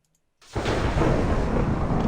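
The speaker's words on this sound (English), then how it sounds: "That was 4 or 5 lightning strikes." Lightning strikes in the Minecraft video game, a sudden loud thunderous crash bursting from silence and then rumbling on continuously, sustained and heavy, with no one talking.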